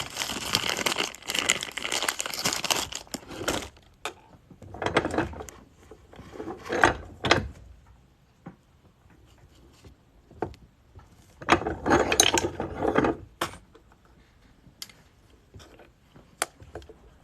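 A silver half dollar coin is folded in a dampening block while being made into a ring, producing bursts of scraping, rubbing and crinkling friction with quiet gaps between them, fairly close and moderately soft.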